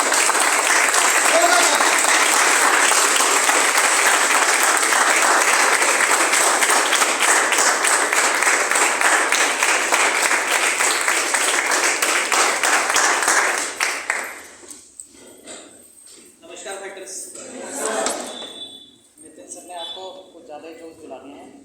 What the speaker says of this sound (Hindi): आप सभी ने जोरदार ताली